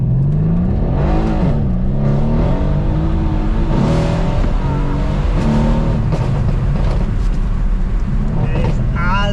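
A tuned Mercedes C63 AMG engine, loud and close, revving hard and accelerating with rising and falling pitch sweeps over a constant road roar.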